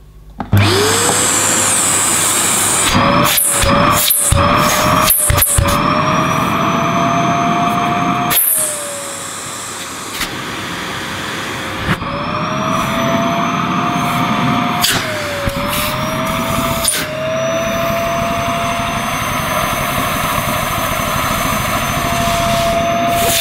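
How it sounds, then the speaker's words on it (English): A 900-watt Nilco S12 commercial tub vacuum cleaner runs loud and steady with a high motor whine, its pitch dipping and recovering a few times as suction loads and clears, interrupted by several brief bumps and clunks. "So as you can see, for 900 watts, this Nilco has terrific suction power."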